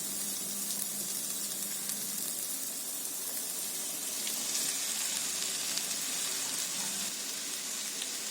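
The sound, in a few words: okra frying in masala oil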